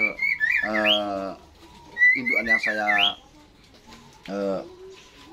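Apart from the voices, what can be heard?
zebra dove (perkutut) cooing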